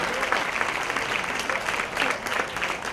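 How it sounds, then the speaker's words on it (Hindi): Loud, dense applause from an audience at a Holi celebration gathering, steady and sustained across the whole stretch with a few swells, with faint voices mixed underneath. "एक बार जोरदार तालियों के साथ में राजनीति का धन्यवाद करेंगे"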